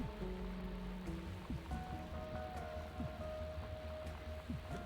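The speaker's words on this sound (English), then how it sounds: "I like the rain." Steady in-game rainfall in Factorio, a dense continuous patter of drops on surfaces with a low ambient hum and faint mechanical tones underneath, moderately loud and unbroken throughout.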